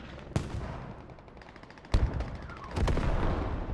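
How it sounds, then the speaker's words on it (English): Artillery shells landing in a war video game battle between Canadian armor and Chinese anti-tank defenses at Tallil, a few sharp blasts standing out over a steady rumble of combat noise and scattered gunfire. "Artillery is starting to land."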